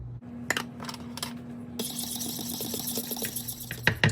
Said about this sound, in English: I'm going to get my milk and my lemon juice and mix them together